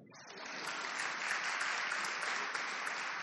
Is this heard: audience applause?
yes